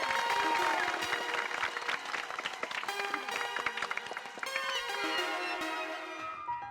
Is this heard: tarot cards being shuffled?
no